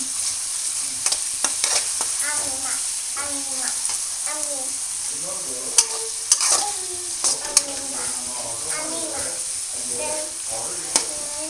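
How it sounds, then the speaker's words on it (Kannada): Egg rice mixture being stirred in a frying pan, with sharp repeated scraping clicks over a steady sizzle, heard close while a voice babbles and chatters over it. "ಚೆನ್ನಾಗಿ ಮಿಕ್ಸ್ ಮಾಡ್ಕೊಳ್ಬೇಕು"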